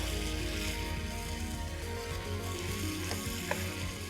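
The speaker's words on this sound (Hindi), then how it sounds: "एक टमाटर को हमने भुना, फिर इसमें दही डाल के भुना" Mutton karahi sizzling and frying in a pan with tomato and yogurt, a steady close crackle of bubbling oil with no voices.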